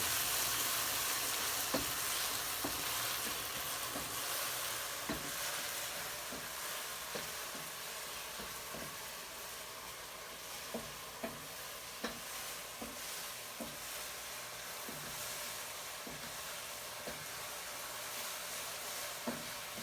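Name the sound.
mushrooms frying in a pan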